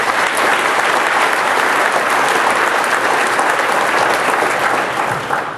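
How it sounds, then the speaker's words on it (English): An audience at a clean technology alliance annual meeting claps loudly and steadily throughout, a dense, even wash of applause with no voices over it. "I want you to give them all a round of applause."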